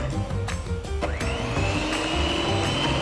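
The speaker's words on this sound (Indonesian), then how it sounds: "Selanjutnya kita kocok krimnya" An electric mixer whips chocolate whipped topping cream in a bowl, a steady continuous whirring hum with a rising pitch partway through as the cream thickens, close and constant for the whole stretch.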